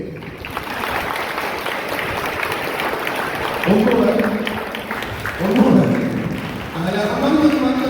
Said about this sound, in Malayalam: ഇഷ്ടപ്പെട്ടെങ്കിൽ ഒന്ന് കൈയടിക്കേ